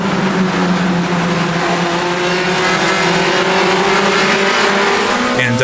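A Formula Junior race car in the Automobilista 2 racing game accelerates uphill, its engine note climbing steadily in pitch as it revs, loud and close, with a faint tire squeal.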